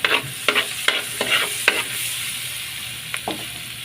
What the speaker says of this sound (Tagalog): so margarine po ang ginamit na tapos mix natin ay ayan ay yung bawang